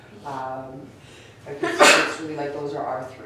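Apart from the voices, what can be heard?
sneeze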